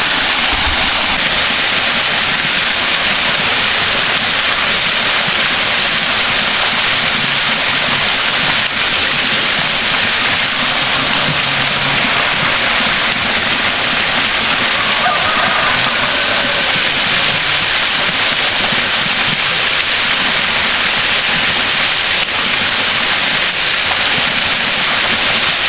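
Waterfall at a hidden village in the forest, a loud unbroken rush of falling water filling the whole scene at close range, with no talk.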